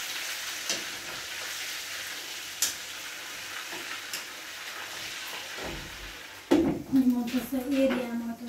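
Food fries in a pan at home while potatoes are being cooked, giving a steady crackling sizzle with occasional clicks, and a voice starts speaking over it near the end.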